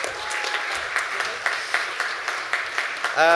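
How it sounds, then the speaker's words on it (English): An audience at an architectural technology awards ceremony gives a round of applause as someone joins them on stage; scattered, moderately loud clapping continues steadily throughout. "Big round of applause, please"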